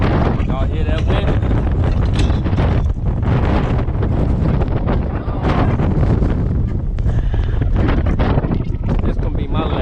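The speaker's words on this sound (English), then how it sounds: "Y'all hear that wind?" Strong gusting wind buffeting the microphone outdoors in North Dakota beside a truck, a loud continuous roar with surging gusts throughout, and someone speaking over it.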